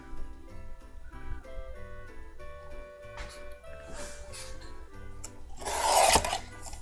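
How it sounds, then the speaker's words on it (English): Paper card stock for a Christmas card sentiment is trimmed by hand, giving soft scraping, rubbing strokes close by over quiet background music, ending in a brief louder rasp. "just trim off the bottom of this sentiment here"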